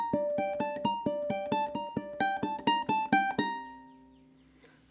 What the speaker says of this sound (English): I'm going to play the first part, and this is the iconic riff